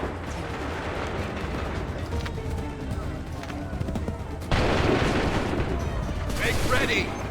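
Soldiers fire a musket volley in Assassin's Creed 3, sharp gunfire cracks and a heavy burst amid battle noise, with commanders shouting orders throughout.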